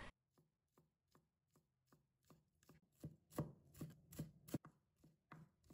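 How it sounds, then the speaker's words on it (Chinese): A knife chops scallion whites into rings on a cutting board, a regular series of crisp, close knocks that start spaced out, then quicken and grow louder, with no talking. "再准备几根葱白，把它切成葱花。"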